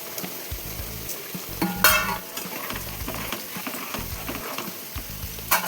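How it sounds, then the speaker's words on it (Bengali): Fried paneer cubes tipped into a pan of cooking potatoes for aloo paneer masala, giving a loud sizzle with bursts of frying, clattering stirs and a sharp spoon clink, heard up close. "এবার আমি ভেজে রাখা পনিরগুলো এখানে দিয়ে দেবো।"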